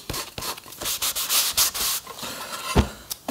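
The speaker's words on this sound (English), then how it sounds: "we're going to sand that off" A DIY guitar kit body is sanded by hand in quick, rhythmic scrubbing strokes of irregular length. The rasping is close and fairly loud, with no voices.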